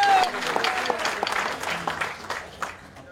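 Audience applause at a political organisation meeting, scattered clapping of a modest crowd in a room that tapers off over a few seconds, with a voice speaking over it.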